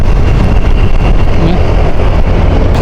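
Motorcycle engine during a bangkingan race at Pantabangan: a loud, steady engine drone close to the microphone, heavily buffeted by rushing wind noise.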